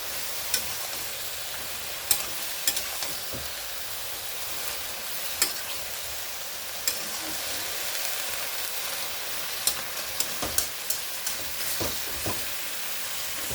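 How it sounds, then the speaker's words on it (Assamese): Taro, greens and jackfruit seeds frying and being stirred in a pan: a low, constant sizzle punctuated by sharp, irregular knocks and scrapes of a spoon against the pan, with no talking. "আৰু লাৰি দিছোঁ।"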